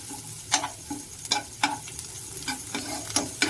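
Onion, chopped ginger and garlic stirred in hot oil, with a steady fry sizzle and a regular series of spatula scrapes and taps against the pan, close and clear.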